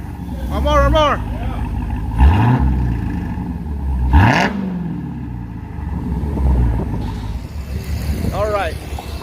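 Revs from a Dodge Hellcat running Carven R mufflers rise and fall in several quick throttle blips over a low idling rumble, loud and close, with speech heard between the bursts.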